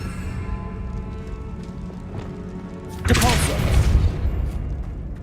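A Depulso force spell goes off in the video game Hogwarts Legacy, a sudden loud whooshing blast about three seconds in that rises over steady game music and ambience, then trails off.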